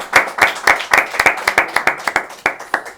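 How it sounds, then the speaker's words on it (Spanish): A small audience at a book presentation in a Murcia bookshop bursts into close, lively applause. Distinct individual claps pop rapidly over a continuous patter, loud and sustained. "os pido un fuerte aplauso y muchas gracias"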